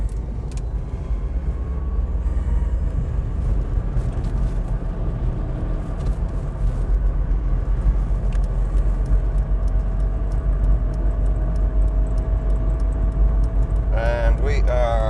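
E46 Touring converted to an electric drive, accelerating hard on the road, with a steady rising motor whine over heavy low road and tyre rumble inside the cabin and a voice speaking briefly near the end.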